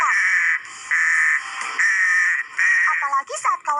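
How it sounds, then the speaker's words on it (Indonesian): A crow caws hoarsely and harshly, giving four long rasping calls in steady succession, then a flurry of shorter broken croaks, loud and close. "gagak berwarna hitam pekat dan suaranya yang serak dan parau terdengar mengerikan"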